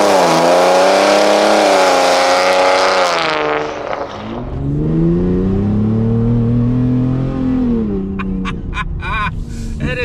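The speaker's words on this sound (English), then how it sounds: "It is so obnoxiously loud. I've never heard a Raptor that sounds like this" A decatted 2019 Ford Raptor with a V6 and loud exhaust accelerating hard, a harsh rising roar that drops at a shift and climbs again, loud and close, with crackles near the end.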